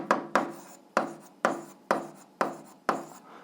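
Pen or chalk strokes writing out algebra equations, seven quick scratchy bursts in a steady rhythm, close and fairly quiet with no talking.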